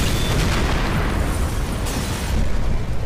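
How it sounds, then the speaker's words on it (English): A loud explosion in the shooter game Max Payne 3 sets off a sustained, broadband roar that fills the whole stretch with dense rumbling blast noise and no pause. "That was a cool explosion"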